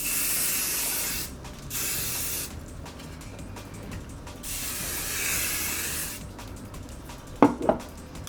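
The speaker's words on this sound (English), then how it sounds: "So then I'm gonna do my last sprays." Hairspray is sprayed onto freshly curled hair in three long, loud, close hissing bursts separated by short pauses, followed by a couple of sharp clicks as the can is handled.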